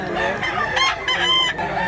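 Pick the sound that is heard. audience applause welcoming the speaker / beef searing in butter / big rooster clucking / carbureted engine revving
big rooster clucking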